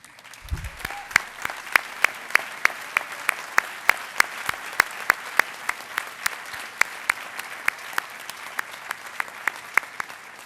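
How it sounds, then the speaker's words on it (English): Graduation audience applauding teachers and staff at a high school ceremony, dense steady clapping under a row of sharp regular claps close by, with a brief low sound near the start and continuous crowd noise. "give you another round of applause"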